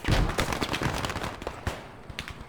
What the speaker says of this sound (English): I got a strafing run coming in along the long axis of that road.